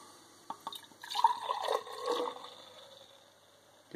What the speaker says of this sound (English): Give it a good old pour.